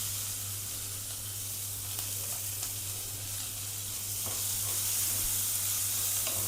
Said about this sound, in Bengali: এর মধ্যে আমি পেঁয়াজের কুচিটা দিয়ে দেবো।